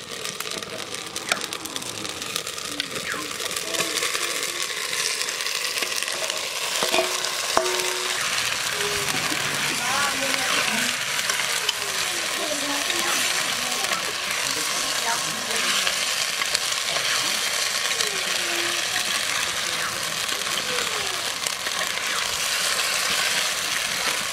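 Duck meat sizzles and crackles in a hot pan with ginger and garlic, with frequent scraping and clinking of a spoon as it is stirred, continuous throughout.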